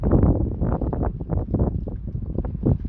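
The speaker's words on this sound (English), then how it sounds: "this wind is blasting me in the face" Strong outdoor wind buffets a microphone in heavy, rumbling gusts that surge and ease throughout, with no voice over it.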